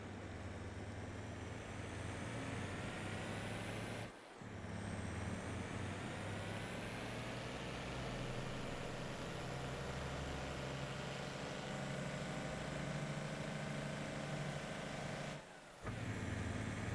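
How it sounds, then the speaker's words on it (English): An old truck in Farming Simulator 22 drones with a steady, loud engine rumble, broken twice by sharp hissing air brake releases spaced well apart. "I love the sound of that old truck."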